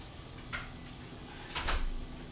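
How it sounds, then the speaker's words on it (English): Doors being closed indoors, a soft thud early on and then a louder pair of knocks and bumps about a second later, close but fairly quiet over a low background hum. "I gotta go close these doors real quick."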